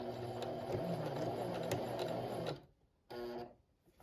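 A domestic sewing machine hums loudly up close while sewing a back stitch on a beginner project, then stops abruptly and gives one short final burst.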